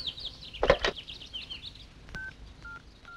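A telephone number is dialed to call a doctor, heard as a few short, evenly spaced keypad beeps near the end, after some brief soft rustling and chirping sounds.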